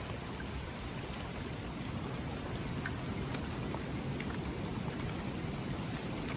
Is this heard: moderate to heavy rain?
yes